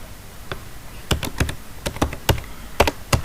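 Keys clatter on a computer keyboard in short close bursts of several quick taps separated by brief pauses, with no voices.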